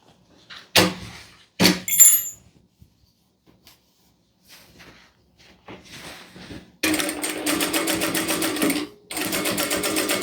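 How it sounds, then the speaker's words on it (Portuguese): Sewing machine running a topstitch finishing seam on a Christmas project, starting after a few clunks and handling noises, then a loud steady stitching burst that pauses briefly and resumes. "Essa primeira costura de pesponto de acabamento."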